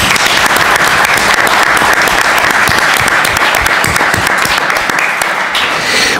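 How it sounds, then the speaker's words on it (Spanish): Loud, dense audience applause at a Spanish book presentation for 'El nacionalismo es el mal' by Pau Guix, sustained and close throughout with no speech over it. "vamos a pedir un aplauso por la gente que no se ha permitido estar aquí"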